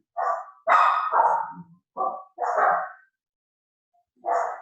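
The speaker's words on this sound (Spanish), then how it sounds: "Alborotó la perrita" A small dog yips and barks in short, sharp bursts, several in quick succession with brief pauses, loud and close.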